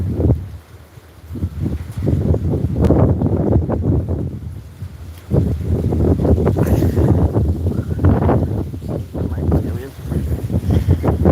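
Gusty outdoor wind on a cold day buffets the microphone in rough, uneven bursts, loud and close, with a short lull partway through.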